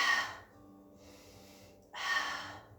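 Deep breathing during a Pilates exercise with a bender ball: a strong breath in or out, a quieter pause, then a second full, airy breath, close to the microphone.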